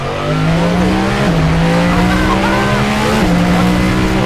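Extremely loud car on a race track under braking: a dense, continuous engine drone with strong harmonics, close up, with two sudden dips in pitch as it slows, and no voices over it.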